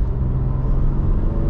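Toyota Supra MK4 engine idling close by, a deep steady low-frequency rumble with a slight throb and no voices.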